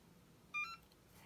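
A card payment terminal gives a short electronic beep, two quick clear tones in succession, alone against a quiet background.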